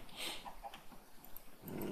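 Dogs growl and grumble in a video game set on a mountain, a low, rough rumble with brief yips, fairly faint and mixed with game ambience.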